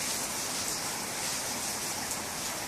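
Steady rain falls on trees and blooming wisteria in California, a dense, even hiss of drops that stays constant and fairly close throughout, with no voices.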